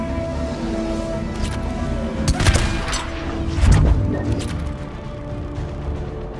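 Gunfire from a weapon in the video game Mass Effect 3: a few heavy, booming shot bursts over dense game noise and rumbling effects, loud and close.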